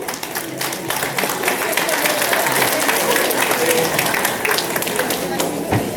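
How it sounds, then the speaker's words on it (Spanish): An audience at a pharmacy technician graduation ceremony claps in a steady burst of applause, loud and close, with voices mixed in. "Damos un fuerte aplauso"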